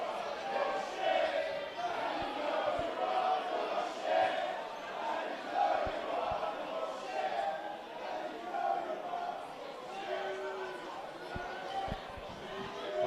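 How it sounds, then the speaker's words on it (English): A football crowd at an amateur cup final between Kingsley SC and Carramar FC shouts out over steady, diffuse stadium noise, with scattered thuds and a voice talking above it throughout. "Cries of shoot from the crowd, even from there."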